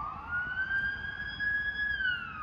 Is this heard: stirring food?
no